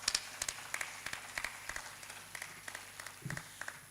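An audience at a dialogue event claps in a loose, regular rhythm of distinct hand claps, fairly faint and distant, with no talking over it.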